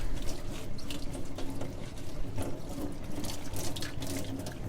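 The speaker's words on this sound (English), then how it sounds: "I'm just refilling the dispenser with some water so that I can spray hot water through the spray pump to clean" A spray pump blasts hot water over an oven part during cleaning, giving a steady close hiss and splash with some rattling mechanical clicks and no talk.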